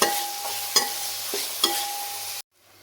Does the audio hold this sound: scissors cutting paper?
no